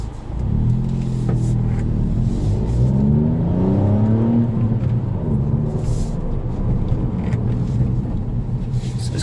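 A Mark 8 Ford Fiesta ST drives along quiet B roads early on a Sunday morning, its engine rumbling loudly from inside the car and rising in pitch through several revving pulls under steady road noise, with no talk.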